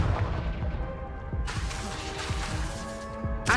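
Fire-spell explosions in the Hogwarts Legacy video game, a dense run of booming blasts and impacts amid combat effects, loud and close with sharp bursts layered over one another.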